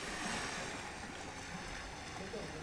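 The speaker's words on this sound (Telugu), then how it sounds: "అలలు వస్తే ఏ సౌండ్ వస్తుందో అది." Recorded ocean-wave sound plays inside a beach house exhibit, a steady wash of broadband surf noise at moderate level with no distinct breaks, continuous throughout.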